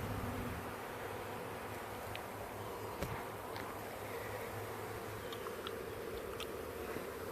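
Faint scattered buzzing of a few straggling honeybees during a hive removal, thin intermittent hums rising over a soft steady background hiss, with one brief thump near the middle and no talking.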